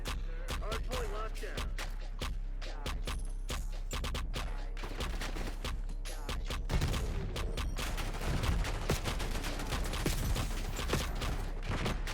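Rapid gunfire in the Black Ops 6 shooter game, including a PML 556 rifle: dense bursts of sharp shots crackle continuously, growing heavier and louder midway through, with game sounds around them.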